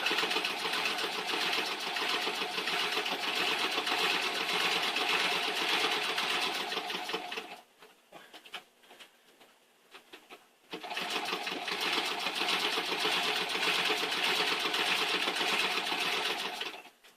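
A treadle sewing machine stitches quilt pieces with a steady, loud mechanical whir. It stops for about three seconds, leaving a few faint clicks and handling sounds, then runs again at the same pace.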